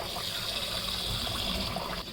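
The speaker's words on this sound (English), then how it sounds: "Just add some cool water" Cool tap water pours steadily into a pot of freshly boiled eggs on a turned-off stove, a continuous close splashing gush with no talk over it.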